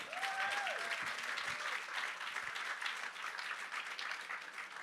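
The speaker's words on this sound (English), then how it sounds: "again, a big round of applause to Chef Kwame." A live audience applauds a chef at a cooking and culture talk, a fairly soft, even wash of clapping from a room of listeners, with a brief voice early on.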